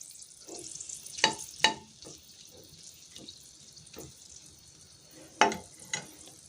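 Cardamom frying in hot oil for a tempering, a soft steady sizzle broken by a few sharp pops and clinks of a spoon against the pan.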